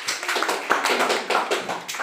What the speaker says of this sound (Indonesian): Boleh tepuk tangan lagi dengan alat ini.